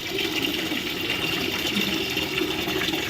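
A continuous rush of water running from a tap, steady and fairly loud, with no voices.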